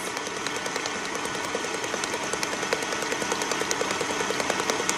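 An electric mixer with a whisk attachment whips powdered sugar icing for sugar cookies. A dense, steady motor whir with rapid rhythmic ticking runs unbroken throughout with no talking.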